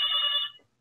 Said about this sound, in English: Sorry, right. It's my phone.